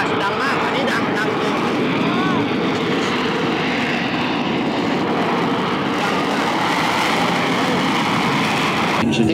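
F-35B military jet hovering at the Miramar Air Show, a loud, continuous roaring engine rumble filling the whole stretch with steady intensity, with faint crowd voices beneath.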